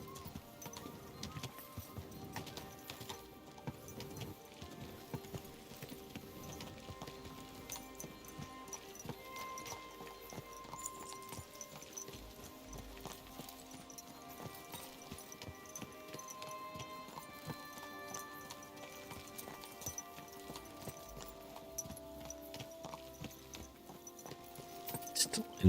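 Continuous clip-clop of horse hooves at a steady riding pace throughout in the video game Kingdom Come: Deliverance II, with a voice talking intermittently over the hoofbeats.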